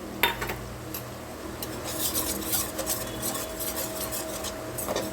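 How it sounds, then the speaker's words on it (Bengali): Spoon stirring flour into onions frying in a pan, a continuous close scraping and rubbing against the pan with a faint sizzle underneath, steady throughout with no talk. "যতক্ষণ ময়দাটা মিশবে ততক্ষণ একটু নাড়িয়ে যেতে হবে"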